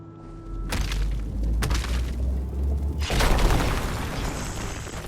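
Rock Explosion spell in a video game smashing a cluster of rocks, a series of loud booming and shattering crashes over a continuous low rumble, with no voices.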